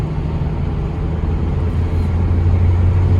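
A car engine idles steadily nearby, a constant low rumbling hum with no talking.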